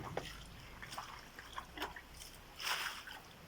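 Water poured onto a holy basil (tulsi) plant, a quiet splashing trickle that swells into a brief broadband splash near the end of the short clip.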